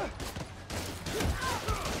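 Rapid bursts of gunfire from police in Marvel's Spider-Man: Miles Morales crackle through a short stretch, layered with faint background noise and a few sharper thumps.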